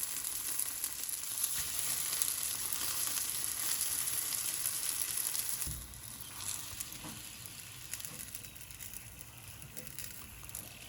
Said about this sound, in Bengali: হালকা তেলে ভেজে নিব।